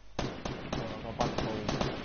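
Gunfire in Fortnite, with sharp single shots cracking at a steady rhythm, about eight close reports in quick succession.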